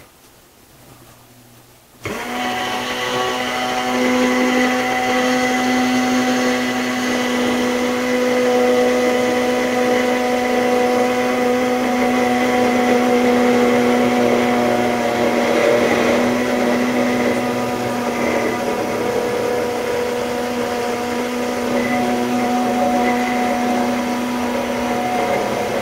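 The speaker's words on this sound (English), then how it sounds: "the egg starting to blend up well, and then I'm going to slowly raise it to the top and continue mixing until it's thick." A kitchen blender whirs steadily, mixing egg into homemade mayonnaise; it starts abruptly after a quiet moment and keeps a loud, even motor hum with a slight rise in pitch for over twenty seconds.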